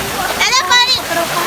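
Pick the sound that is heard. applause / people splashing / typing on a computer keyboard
people splashing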